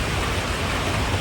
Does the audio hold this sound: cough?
no